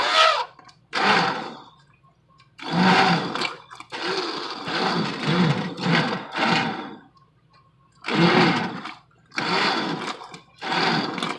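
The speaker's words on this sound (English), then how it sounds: "use my emulsion blender" An immersion blender whirs in repeated bursts through spaghetti meat sauce: about seven pulses of a few seconds each, separated by short silent pauses, close and loud with no talking.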